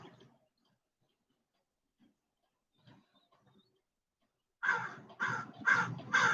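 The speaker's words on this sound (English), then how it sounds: "We get to look at the birds while we lay here." Crows caw outdoors in a short series of four or five loud, rough calls near the end, after a few seconds of near silence with faint scattered sounds.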